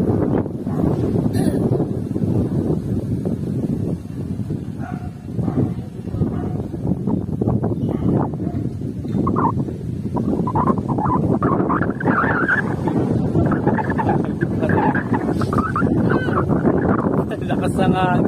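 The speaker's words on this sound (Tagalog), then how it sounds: "Lakas ng hangin, grabe." Strong wind buffets the microphone on Treasure Mountain in Tanay, Rizal, a steady loud rumble running the whole time under a person talking.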